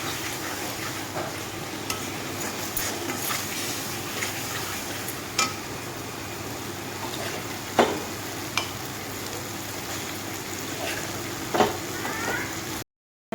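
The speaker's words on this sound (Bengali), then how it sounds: "আমি চানার ডাল আর সয়াবিন সাথে মশলাটাকে ভালোভাবে কষিয়ে নেব" Chana dal and soybean with spices sauté in a pan with a continuous close sizzle, punctuated by occasional scraping clicks of a stirring utensil against the pan.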